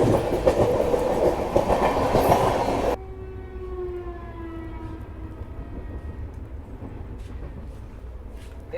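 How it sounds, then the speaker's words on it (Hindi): The Purushottam Express rolls toward Fatehpur: a loud, dense rumble for about three seconds drops to quieter steady rolling, with a thin tonal whine rising over the clatter, and no voices. "ट्रेन हमारी फतेहपुर की ओर बढ़ रही है"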